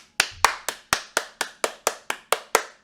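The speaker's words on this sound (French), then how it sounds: "On applaudit." A single pair of hands claps about eleven times in a steady, even rhythm, each clap sharp and close with a short decay.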